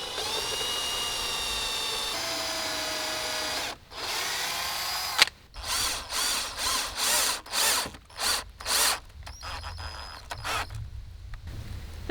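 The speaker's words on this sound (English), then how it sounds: "This is me screwing the shelves to the side panels" A power drill drives screws through pine shelves into side panels: a long steady whine, then a string of short trigger bursts with pauses between, close and fairly loud.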